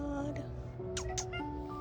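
A cat on a street in Split, Croatia, gives a couple of short meows against a steady low background hum, near but quiet.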